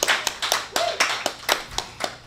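An audience at a book talk claps together in a steady, quick rhythm. Each clap is sharp and close, with about four claps per second and no talk over them.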